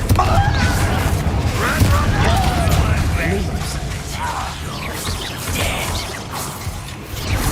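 Explosive Confringo spell blasts in a Hogwarts Legacy battle: a dense run of booms, crashes and whooshes, loud and continuous, with voices talking over the combat.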